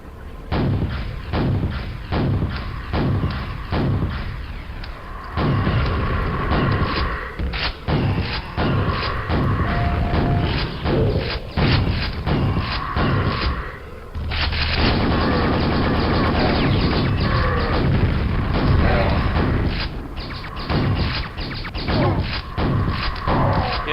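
Rocket launches and explosions in the video game Quake hit in a loud, repeated series of booming thuds over a steady game soundscape, with one short quiet gap midway.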